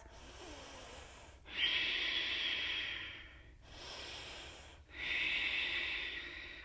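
Deep breathing during yoga: two long, hissing breaths sound close and clear, each lasting a couple of seconds and separated by a brief quiet pause.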